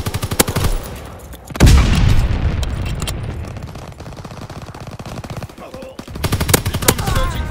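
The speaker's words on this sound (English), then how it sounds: "Recon battery in position. Clear the skies of enemy aircraft. Recon firing." Call of Duty WW2 recon battery fire against enemy aircraft: loud rapid machine-gun bursts and heavy booming shots, a big blast near the start trailing into rumbling echo, then further rattling volleys, close and dominant.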